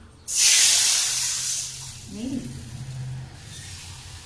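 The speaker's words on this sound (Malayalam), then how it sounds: "എന്നിട്ട് ഇതില് വെള്ളം വെക്കണം." Water poured into a pan for making kesari, a broad hissing rush that starts abruptly and stays loud for about a second before tapering, with softer sounds continuing underneath.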